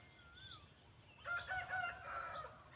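A rooster crows once in a rural rice-field setting after rain, a faint, distant cock-a-doodle-doo rising over quiet outdoor ambience with a steady high insect-like whine.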